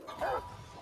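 A brief yipping dog bark rings out in Remnant: From the Ashes, a single short burst of mid-range yelps over a low game background, fairly faint and somewhat distant.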